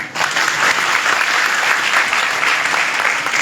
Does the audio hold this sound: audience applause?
yes